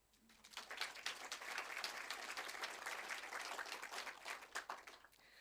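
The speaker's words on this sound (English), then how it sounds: "I think that deserves a clap" Audience applause at a talk on youth, a crowd clapping that swells in quickly and holds as an even, dense patter before tapering slightly near the end, heard from a distance at low level.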